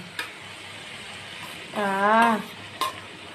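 Marinated food fries in a pan with chilli powder, a low steady sizzle broken by a couple of sharp utensil taps, while a short voiced sound rises briefly in the middle.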